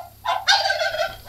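A turkey gobbles once, a loud, close, rapid rattling call that rises quickly and trails off, with no talking over it.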